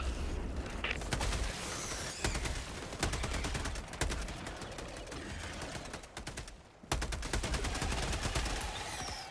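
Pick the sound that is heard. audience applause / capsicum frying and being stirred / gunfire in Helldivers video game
gunfire in Helldivers video game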